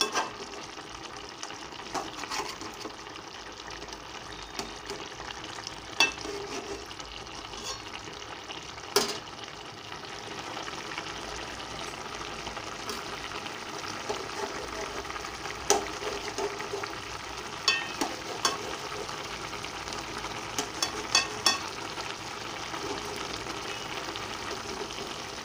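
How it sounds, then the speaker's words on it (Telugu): Eggs fry in a pan for homemade egg curry, a continuous soft sizzle punctuated by scattered clicks and scrapes of a spatula stirring and turning them, fairly quiet and close. "చూడండి గుడ్లు ఎలా ఉడుకుతున్నాయో"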